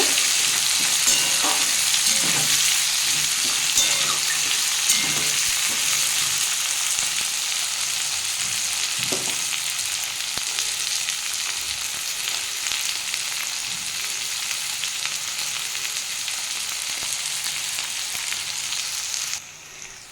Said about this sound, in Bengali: তেলের মধ্যে আমি আলু কুমড়ো আর পেঁয়াজটা দিয়ে দিয়েছি এটা আমি ভালো করে ভেজে নেব